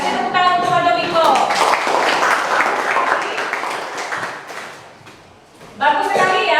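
Students in a mathematics classroom clap for a classmate, a dense burst of hand claps lasting several seconds that fades out, with a teacher's voice before and after.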